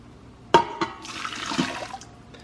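Water pours into an Instant Pot for cooking brown rice: a sharp knock opens it, then a steady splashing rush lasts about a second before tapering off, close and fairly quiet with no talking.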